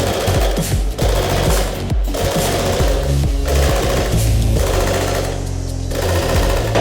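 A power hammer pounding steel in a fast, steady stream of heavy, close blows, loud and mechanical throughout, with slight shifts in rhythm and no talk.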